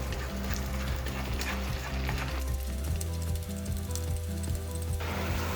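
Eggs scramble in a frying pan with a continuous hiss and sizzle. Light utensil scrapes and clinks break through, and tonal background music plays over the whole stretch.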